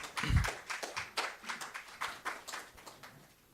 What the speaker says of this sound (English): Shall we please welcome him with a round of applause, please?